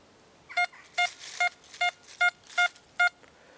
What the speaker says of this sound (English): I'm going to turn the audio response up and let you hear the difference the audio response makes